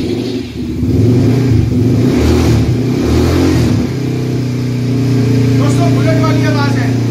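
A 2022 Xtreme 300cc ATV with a double silencer rumbles loud and close, revving up and settling into a steady, deep thumping idle, with someone talking over it at first.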